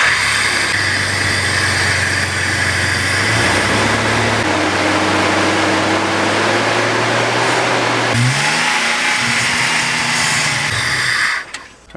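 A car engine cranks and fires up, then revs repeatedly with rising and falling pitch, loud and close throughout, running after an engine treatment that makes carbon smoke blow out the exhaust.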